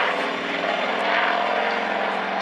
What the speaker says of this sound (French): Ce Nord-Atlas, celui qui est dans le ciel au-dessus de nous, est une machine